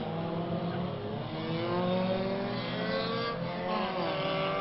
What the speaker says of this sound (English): see how nice and easy he's driving around the track?